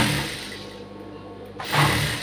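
A sewing machine stitching a blouse starts up after a quiet moment, its motor rising into a steady close whir that holds to the end.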